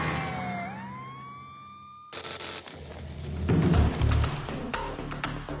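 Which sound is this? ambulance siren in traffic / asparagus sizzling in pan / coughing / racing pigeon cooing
ambulance siren in traffic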